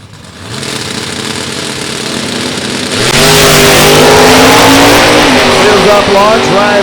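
Top Dragster race cars launch down a drag strip at a drag racing event, engines revving hard and surging to a loud, sustained roar that builds with rising pitch as the cars pull away, crowd and announcer ambience underneath.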